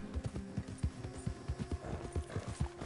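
Hooves of a horse in the video game Red Dead Redemption 2 clip-clop in a steady, rapid trotting rhythm. The hoofbeats sound close and low over a faint backdrop of game ambience, with no talk.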